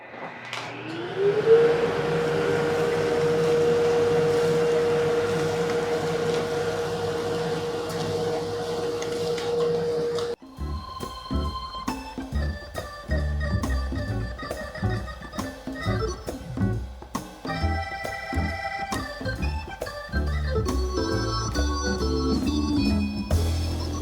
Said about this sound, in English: I'm going to use my dust collector for this because a shop vac just ain't going to handle this load.